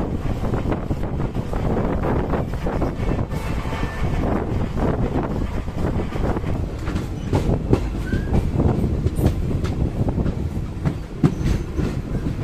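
The Cholan Express rumbles and clatters steadily nearby as it departs, with rhythmic clicking of wheels over rails and wind noise on the microphone.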